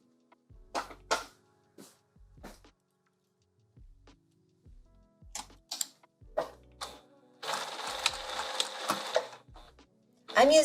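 A sewing machine stitches a lined-bodice dress at a 2.5 stitch length: scattered clicks and handling knocks, then a sustained mechanical whir of stitching for a second or two, followed by a final clack.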